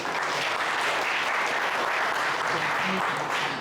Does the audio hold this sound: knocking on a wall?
no